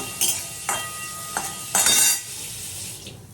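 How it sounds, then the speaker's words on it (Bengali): Chopped garlic and dried red chilli are stirred in a hot frying pan, with a few brief scraping strokes and bursts of sizzle that rise and fade, set against a steady low background hiss. "রসুন কাটা দিয়ে দিলাম, শুকনো লঙ্কা দিয়ে দিলাম, নাড়াচাড়া করবো।"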